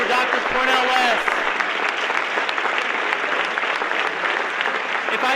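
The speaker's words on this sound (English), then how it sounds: "can we get one more round of applause for Dr. Cornel West?" Sustained audience applause for Dr. Cornel West at an FAS event, dense and steady throughout, with brief cheering voices rising over it early on.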